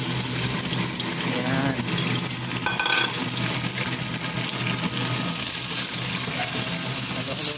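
Tomatoes sautéing in a pan for salmon head sinigang with miso give a steady broadband sizzle and frying hiss, with faint stirring scrapes, continuous and close throughout.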